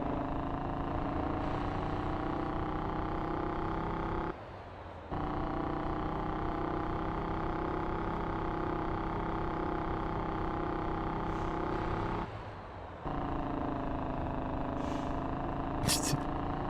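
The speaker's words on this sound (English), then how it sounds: "Sounds like a two-stroke motocross." A steady, buzzing engine drone from a vehicle in the driving game MotorTown, resembling a two-stroke motocross bike. It holds at a constant pitch for most of the clip, with two short dips where it drops briefly.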